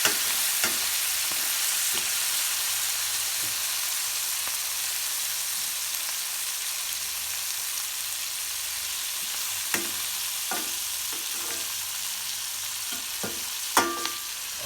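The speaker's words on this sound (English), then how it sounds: "stir everything up. Make sure the jalapeños are kind of browned on all the sides." Jalapeños and tomatillos browning in a pan for salsa verde, a continuous, even sizzle and crackle with occasional sharp spatters and a couple of light stirring knocks, no talking.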